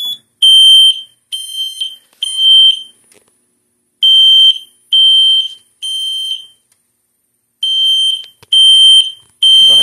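A Notifier NFS-320SYS fire alarm system sounds during a pull station test, a loud, piercing electronic alarm firing in repeated short bursts with brief gaps between them, heard alone and close by.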